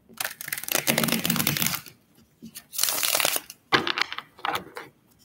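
Tarot cards being shuffled in several quick bursts, crisp riffling flutters separated by short pauses, close and fairly quiet.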